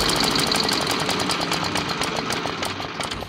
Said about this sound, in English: It just runs so perfect. One of the rarest machines anywhere, the 1916 Traub.